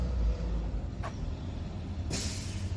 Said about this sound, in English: there's a large truck pulling up right now.